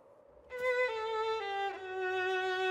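In a children's cartoon, a snowflake gives off a violin-like bowed tone that enters after a brief quiet moment and holds a few sustained notes, clear and alone.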